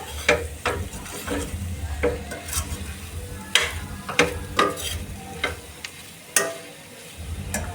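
A potato, pea and capsicum curry frying on a medium flame is stirred with a spatula, giving irregular scraping clicks over a continuous low sizzle.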